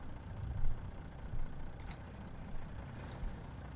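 A truck in Farming Simulator 19 rumbles steadily at a Western Australian field edge during harvest work, its low engine drone swelling in a few surges, with a brief hiss near the end.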